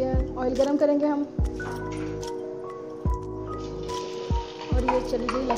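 Garlic-ginger paste drops into hot oil for a chicken cream handi and sizzles with a crackling hiss while a person speaks over it.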